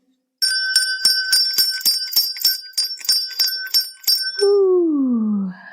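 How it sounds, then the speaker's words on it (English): A bright meditation bell rings repeatedly in a rapid, steady shimmer for several seconds, then its tone rings out and slowly bends downward as it fades. "I'm going to ring a bell to call in our well ancestors."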